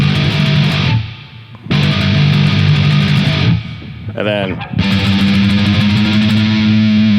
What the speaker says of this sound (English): we realized it's actually the bass doing that with distortion on